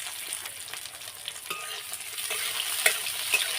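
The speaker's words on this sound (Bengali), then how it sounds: "ছোলাগুলো একটু ভাজা ভাজা করে নিতে হবে" Chickpeas sizzle and crackle in a hot pan, with light scraping and stirring noises over the steady frying hiss.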